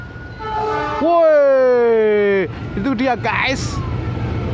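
CC206 diesel locomotive passing near Gubeng station, sounding a loud, sustained two-tone horn blast close by, followed by the rumble of the passing train while people talk excitedly.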